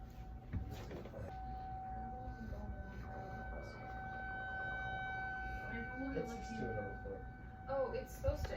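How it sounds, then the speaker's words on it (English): Outdoor tornado warning sirens sounding during a storm, a steady wailing tone that hangs over a continuous rumble of wind and rain, with people talking nearby. "I think the tornado sirens are dying."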